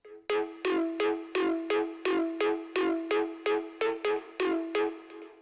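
A steady electronic loop of about a dozen sharp, bright hits over a sustained tone, each strike trailing into a smooth Ableton reverb wash with a 2.11-second decay; no voices.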